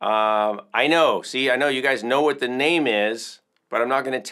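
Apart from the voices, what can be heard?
No everyday noise stands out behind the speech.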